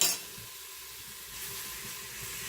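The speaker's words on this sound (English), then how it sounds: "Garlic will burn quickly, so you don't want to cook that for very long." Garlic sizzles steadily in hot oil in an Instant Pot, a soft continuous hiss at close range with no voices.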